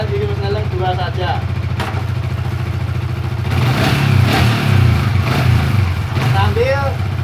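An old motorcycle that has sat unused for a long time runs in second gear, its engine chugging steadily and then growing louder as it revs, while someone talks over it.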